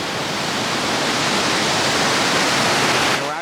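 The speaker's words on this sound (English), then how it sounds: "we're actually getting pretty wet from all the mist coming off these falls here" Bald River Falls in Cherokee National Forest, Tennessee, roars as a steady, loud, close rush of falling water, a continuous broadband wash with no voices over it.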